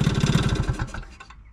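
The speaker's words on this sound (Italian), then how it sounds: "Adesso io spengo il motore" A Piaggio Zip scooter engine is switched off, its close, loud pulsing idle sputtering and slowing over about a second before fading into near silence.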